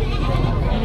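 A goat bleats at a busy livestock market, its brief cry mixed into steady crowd noise and chatter that stays close and loud throughout.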